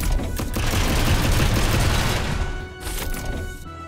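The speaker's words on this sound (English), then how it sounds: "Let's just do machine gun" Machine gun fire in the mech strategy game Front Mission 2 Remake, a loud, dense burst of rapid shots for about two and a half seconds, then a shorter, fainter burst.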